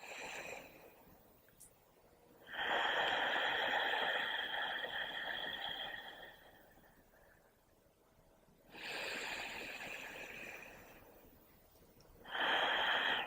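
Slow, deep exhalations during a breathing exercise, three long airy breaths lasting several seconds each, close and soft, separated by quiet pauses.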